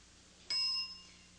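A single bright electronic ding of a game show bell marks the start of a round, ringing clear and alone for about a third of a second before fading, with no talk over it.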